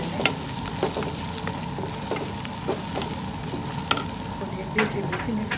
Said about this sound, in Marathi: कांदा लगेच घालून घेणार आहे.